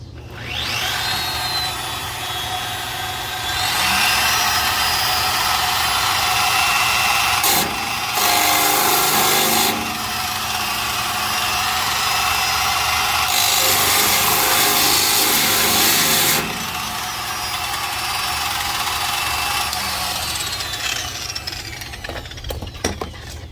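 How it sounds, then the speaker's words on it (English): A power sander grinds against the patina paint of a 1951 Ford F1 truck, a loud continuous abrasive whir that surges in several bursts over roughly twenty seconds. "you can probably see there with the sander, as I expected, that's just way too abrasive"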